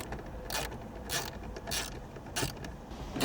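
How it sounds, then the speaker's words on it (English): A 7 mm socket wrench ratchets out the four screws around the dash display of a 2014-2020 Jeep Cherokee, heard as four short, close rasping clicks spaced about a second apart over a faint background hiss. "Take a 7 millimeter socket wrench and remove the 4 screws."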